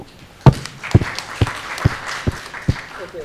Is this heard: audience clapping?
yes